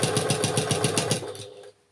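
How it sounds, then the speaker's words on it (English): Close, rhythmic whirring of a sewing machine running a seam down strips of patterned and white quilt fabric for a nine-patch block, a steady pulsing stitch that slows and stops near the end, with no voices. "Put it under your needle and then sew down that side"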